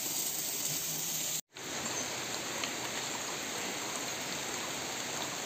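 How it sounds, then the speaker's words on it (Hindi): Heavy rain falls as a dense, steady hiss during a downpour at home, continuous apart from one brief dropout. "और इतनी तेज बारिश हो रही थी ना कि ऐसा लग रहा था जैसे मानो बरसात ही शुरू हो गई है"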